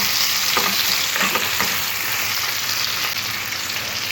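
Potatoes, onion and tomato pieces sizzle together in hot oil for a fish curry, with a few scraping stirs near the start over a steady, close frying hiss and no talk.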